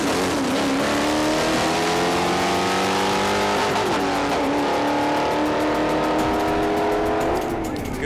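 Drag race cars accelerating hard down the strip, a loud rising engine roar with gear-change steps, close and sustained over several seconds.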